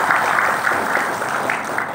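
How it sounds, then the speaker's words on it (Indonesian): Audience applause at a national coordination meeting, a steady dense wash of clapping from a crowd held for a couple of seconds at close, loud level, with no talk over it. "Tepuk tangan buat teman-teman ya."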